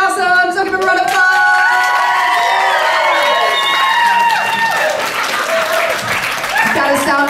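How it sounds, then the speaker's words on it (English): Burlesque troupe audience applauding loudly with cheers and whoops, a dense steady roar of clapping under shouted voices and excited talk throughout. "give a round of applause"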